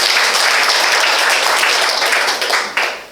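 Workshop audience applauding themselves, a burst of steady, loud clapping from many hands that tapers off near the end.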